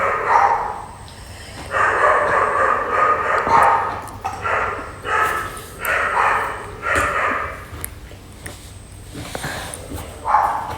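Dogs bark in repeated bursts, loud and close, with pauses between volleys and some background noise.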